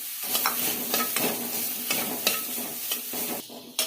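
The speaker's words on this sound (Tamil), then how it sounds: "நம்ம நல்லா இந்த மாதிரி ஃப்ரை பண்ணி சோயா சங்க்ஸ் வந்து நல்லா ஃப்ரை பண்ணி எடுத்து வச்சுக்குவோம்." Soya chunks frying and being stirred in hot oil with pepper in a pan, a steady sizzle broken by repeated scraping stirs, close and moderately loud with no voices.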